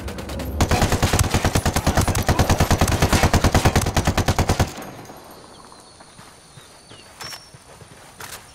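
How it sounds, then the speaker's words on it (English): Rapid automatic gunfire from a Ghost Recon firefight, a loud, steady burst of evenly spaced shots lasting about four seconds, then dying away to quieter ambience with a few scattered distant pops. "I'm opening fire on these shitheads"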